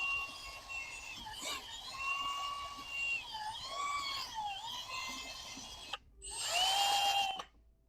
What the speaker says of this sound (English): get you a whisk attachment, put it in your drill